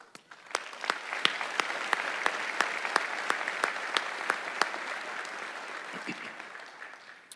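At a sheriff's academy graduation ceremony held with San Bernardino Valley College, the audience breaks into dense, sustained applause. Individual sharp claps stand out against a continuous wash of clapping that carries on steadily before fading slightly near the end.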